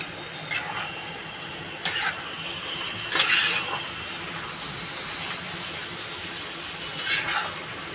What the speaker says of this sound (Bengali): আমি মাছটা ঢেলে দেবো, একটু নাড়াচাড়া দিয়ে আবার ঢাকা দিয়ে দেবো।